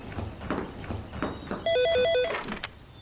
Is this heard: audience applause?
no